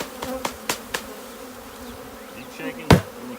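Honey bees buzz steadily at close range, with several sharp knocks and thumps as a 3-pound package is shaken and the bees are dropped and poured into a hive.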